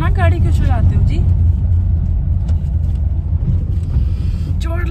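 Car on a road trip toward Delhi via Rohtak: a steady interior engine and road rumble runs throughout, while people talk over it.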